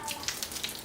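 Water left running from a tap at home gives a steady hissing splash with faint irregular spatters, moderately quiet and close.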